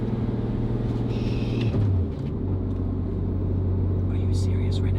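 Inside the cabin of a Porsche 991.2 GT3 with titanium exhaust and equal-length headers, cruising quietly in fourth gear with a low steady engine drone and a brief shift in pitch, while people talk over it.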